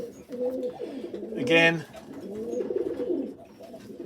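Racing pigeons cooing in a loft, a short burst of soft coos mixed with other bird calls close by, with someone talking over and around them.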